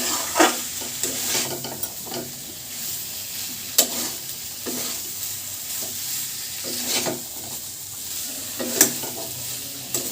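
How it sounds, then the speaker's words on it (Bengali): Mutton keema and green peas stir-fried in a pan over a high gas flame for Kolkata street-style ghugni: a steady close sizzle broken by repeated sharp scrapes of the spatula, with no talking. "এইবার গ্যাসটা হাই ফ্লেমে রেখে এগুলোকে একসাথে নিয়ে কষিয়ে নেব।"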